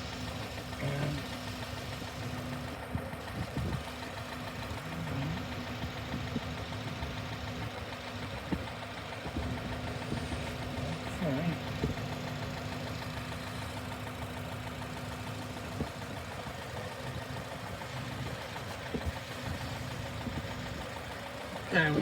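A Honda car engine with variable cam timing idles steadily at close range, a low even hum with faint knocking ticks throughout and no voices.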